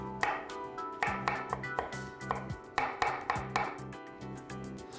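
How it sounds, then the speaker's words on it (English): Knife rough-chops fresh mint, Thai basil and cilantro on a cutting board, a run of crisp, close taps in quick uneven bursts with brief pauses between. "I'm going to add in some Thai basil, and I'm just going to rough chop some cilantro as well"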